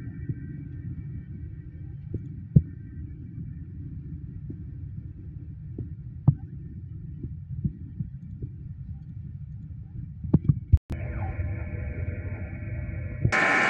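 DTF printer working through a print head cleaning cycle, a low throbbing pump hum with soft rhythmic pulses and occasional clicks, then a sharp clack and a higher mechanical whirr toward the end.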